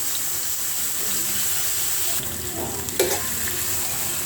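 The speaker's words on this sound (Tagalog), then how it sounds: "magpiprito na ako ng tilapia" Tilapia fries in margarine with a steady, close sizzle and crackle throughout, joined by a brief clatter and scrape of a utensil near the three-second mark.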